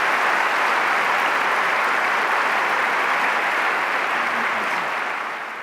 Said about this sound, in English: I think he deserves a round of applause as well